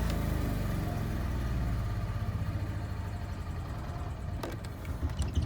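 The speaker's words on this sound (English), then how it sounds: "I'm gonna go ahead and turn this generator off now." A loud Onan RV generator drones steadily up close, and a few faint clicks follow near the end as it is stopped.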